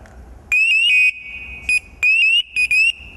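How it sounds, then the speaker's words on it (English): Firefighter's distress alarm at full volume, a loud piercing electronic tone sounding in several bursts, each sweeping upward and then holding, with short gaps between. "And that's full alarm to let them know that, hey, I need help, and help them find me"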